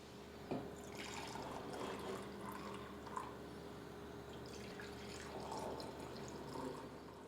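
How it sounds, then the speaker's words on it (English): Batch brew coffee, a Kenyan coffee, pours steadily from a dispenser into a cup with soft splashing and trickling, faint under a low room hum. "let's pour some Batchy"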